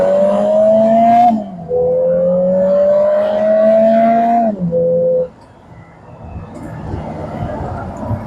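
A Lotus Emira turbo accelerates hard under full throttle, its engine note climbing steadily through the revs across two long pulls with a brief gear-change dip between, then easing off into a lower hum.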